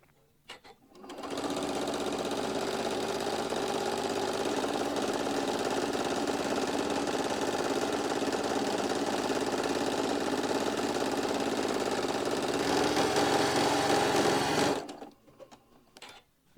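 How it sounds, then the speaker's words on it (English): A sewing machine stitches steadily around the edge of a fabric piece, one continuous loud mechanical whir that runs for about fourteen seconds before stopping abruptly. "we're going to start sewing it all the way around"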